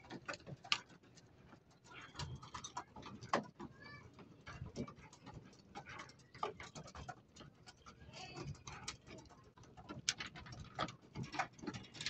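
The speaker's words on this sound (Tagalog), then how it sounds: "At ayun yung kalapati natin na tuka pa." Rapid soft tapping and pattering of pigeons pecking at a surface, irregular and close, with faint cooing and rustling throughout.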